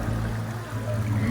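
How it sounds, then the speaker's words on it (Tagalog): Water from Pagsanghan Falls flowing in the Balanac River at Magdalena, Laguna, a steady close rushing murmur with a low hum underneath and no voices. "ang tubig na dumadaloy dito is galing sa Pagsanghan Falls"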